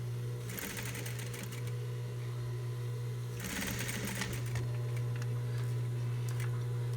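A sewing machine stitching a fabric bandeau with an elastic back, running steadily with a constant motor hum and two brief bursts of faster rattling stitching, close and unaccompanied by talk.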